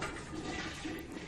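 A toilet flushes in a film scene, a short rushing burst of water heard alone and fairly quiet.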